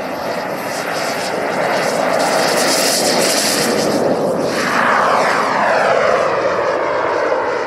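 A fixed-wing airplane passes loudly overhead at an air show in Holíč, a broad, sustained engine roar that swells and shifts pitch as it goes by, alone without voices.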